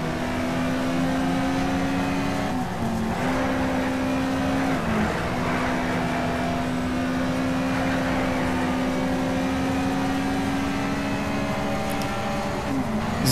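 Race car engine in the video game Need for Speed Shift, a loud continuous droning note held near steady at the race start with brief dips at gear shifts, constant over thirteen seconds.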